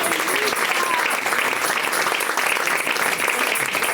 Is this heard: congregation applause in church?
yes